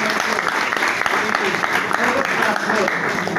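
Audience applause at a student and parent guidance session at PPM English School in Veshvi, Konkan, a dense, steady clatter of many hands clapping that fills the room without a break.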